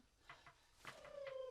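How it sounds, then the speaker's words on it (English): A single bird clucks in a few short bursts against a quiet, eerie backdrop, followed by a sustained tone that drifts in behind it. "It's only a bird."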